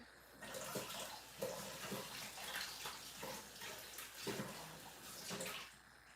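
Liquid from preserved tomatoes being poured out, a steady splashing, gurgling stream close by that runs without a break and swells in small surges, with no talking.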